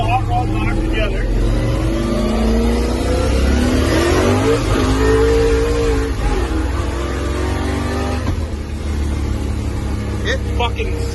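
A 1957 Chevy with a 327 engine revs hard and spins its wheels, a loud rising and falling engine roar with tire squeal, while people talk and shout nearby.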